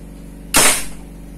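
A single sharp pop from a homemade PVC pipe gun being test fired, close and loud, with a short fading tail.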